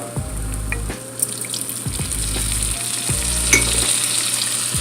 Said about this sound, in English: Once the butter melts and the garlic is sizzling and slightly browned